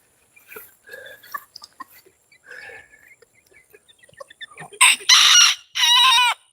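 Chickens cluck and chatter in short scattered bursts, then a rooster crows loudly three times close by, the calls long and ringing.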